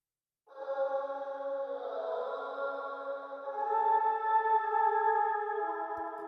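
A long sustained vocal note drenched in shimmering chorus and reverb from a Baby Audio plugin, smooth and synthetic, stepping to a different pitch midway and held to the end.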